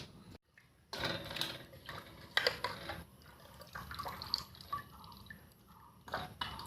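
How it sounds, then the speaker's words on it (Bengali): Bitter gourd being washed under water gives intermittent splashing, trickling and dripping, with a few sharper knocks and handling sounds close by. "এই যে এখন আমি বন্ধুরা জল দিয়ে ধুচ্ছি"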